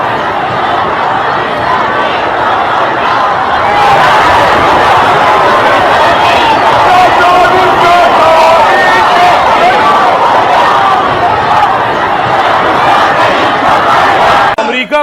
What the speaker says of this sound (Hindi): अमेरिका मुर्दाबाद के नारे लग रहे हैं